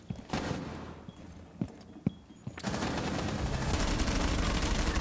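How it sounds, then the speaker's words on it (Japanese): Sustained automatic gunfire punching through walls in the tactical shooter Rainbow Six Siege, a few sharp separate shots followed by a dense, continuous burst that grows loud and steady, with no talking. "これすごくない、この壁抜き。"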